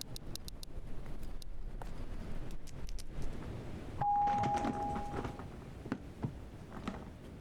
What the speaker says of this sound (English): Doorbell intercom.